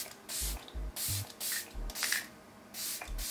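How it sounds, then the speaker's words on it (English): Several short hissing bursts of e.l.f. makeup setting spray, about seven in quick succession, each a brief puff with small gaps between, close and fairly soft. "I'm gonna hit it one more time with my e.l.f."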